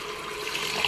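Water pours steadily into an Instant Pot holding rice and chicken broth, a continuous close splashing hiss over the brief moment, with no talk.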